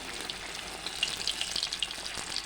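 Jackfruit fritters frying in hot oil, a steady close sizzle with bright crackling pops scattered throughout, no voices.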